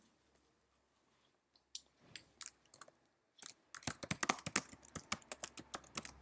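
Keys on a computer keyboard clatter close by, sparse and hesitant at first, then settling into a quick, dense run of crisp typing taps.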